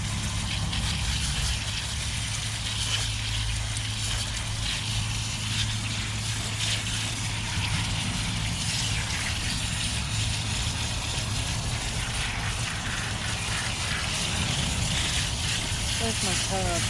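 Running water pours steadily while a bullseye-pattern tie-dye t-shirt is given a quick rinse, a constant broadband rush that stays level from start to finish, with a voice speaking over it.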